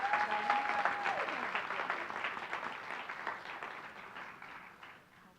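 Applause for an honoree at a Rutgers-Newark SHEroes event, a steady moderate wash of many hands clapping that gradually thins and fades toward the end, heard alone without talk.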